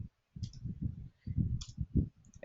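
Quick bursts of close keyboard clicks, several keystrokes in short clusters with brief pauses between, heard on their own.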